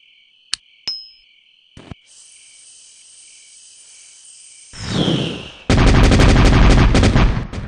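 A cartoon explosion from explosives in a Homestar Runner jail scene: a few sharp clicks and a faint fizzing hold, then a rising whoosh that breaks into a loud, sustained rumbling blast.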